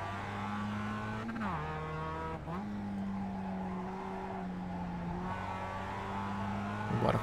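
A race car engine in the iRacing simulator drones steadily, its pitch dropping and climbing at several gear shifts, with no talking over it.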